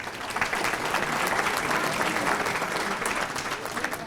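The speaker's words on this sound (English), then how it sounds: "a nice round of applause for the other 3 squad organizers we're recognizing" Banquet guests at an adult bowling association dinner applaud honorees, a steady wash of clapping from a room of people, moderately distant and even in level.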